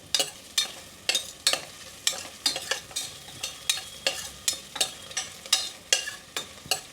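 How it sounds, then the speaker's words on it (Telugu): Lentils, cumin and curry leaves fry in a pan with coriander seeds and garlic. A hand stirs them with a steady rhythmic scraping that repeats roughly twice a second over a soft sizzle, close and moderately loud. "ఇది కొంచెం వేగనివ్వాలి పచ్చివాసన పోయే వరకు వేగనివ్వాలన్నమాట"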